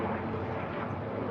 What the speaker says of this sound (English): There's a helicopter up there.